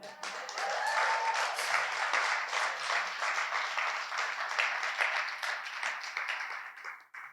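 Sustained audience applause at a poetry performance, steady dense clapping from a full crowd that holds for several seconds before tapering off at the end.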